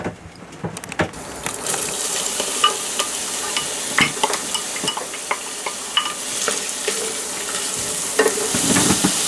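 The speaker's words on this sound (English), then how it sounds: "I fry them first because then you can give them the right flavor with the garlic and the spices." Garlic and spices fry in a pan in a boat's galley, with a steady close sizzle broken by sharp clicks and scrapes of stirring, and the hiss rises toward the end.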